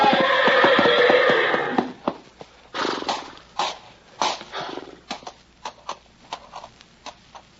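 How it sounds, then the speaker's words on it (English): A horse lets out a loud, shaky whinny, followed by a series of short snorts and hoof-like thumps at an irregular pace. "Watch out, Hauser. You're backing into the horse"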